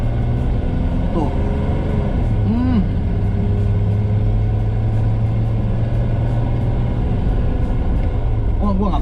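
A 1961 Mercedes-Benz W111 220S Fintail engine runs loud and close with a steady, rough rumble under throttle. People talk over it throughout.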